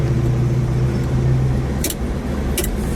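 A black 1969 Plymouth GTX with a 426 Hemi V8 drives along with a steady, deep engine rumble heard from inside the car, loud and close, with faint clicks over the drone.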